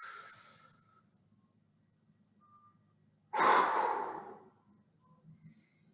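During a full-body stretching session, a person takes two loud, close breaths: a short airy exhale at the start, then after a pause a long, forceful breath drawn in that rushes for about a second before fading.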